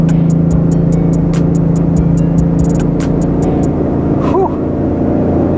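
A Ford Mustang engine fitted with a Bama Rev-X tuner, held above 3,000 RPM, gives a loud steady droning growl from inside the car with rapid rhythmic ticking, and a short exhaled exclamation toward the end.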